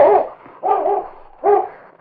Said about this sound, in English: King started out with a series of short barks